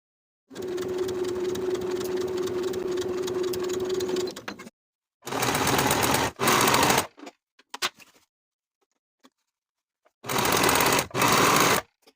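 A sewing machine stitches the side seams of a summer jumpsuit at a 5/8 inch allowance, running in a long steady burst, then stopping and restarting in several shorter bursts separated by silence.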